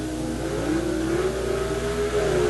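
A pair of Corvettes revving hard at a drag race launch at the NHRA World Finals in Ontario, California, 1976, a steady loud engine roar with a rising pitch sweep and no talk.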